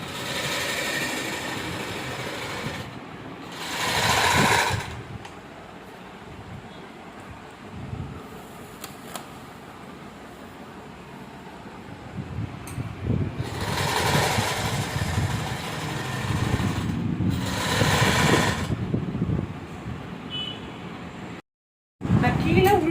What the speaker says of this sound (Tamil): இப்போ இந்த பக்கம் ஃபுல்லாக நாங்கள் இதை அடிச்சு போடணும்